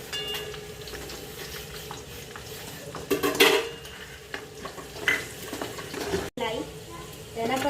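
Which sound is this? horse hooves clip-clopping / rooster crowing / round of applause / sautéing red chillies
sautéing red chillies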